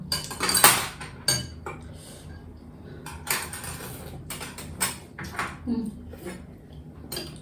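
Noodles being tossed in a bowl with utensils, giving scattered metallic clinks and scrapes of cutlery against dishware at close range, interspersed with quiet pauses.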